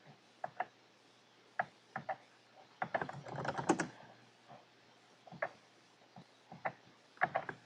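Quiet clicks of a computer keyboard as someone types a command on a Raspberry Pi: scattered single keystrokes with a quick burst of rapid typing in the middle.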